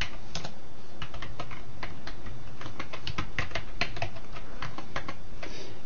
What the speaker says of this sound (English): you want to type in your name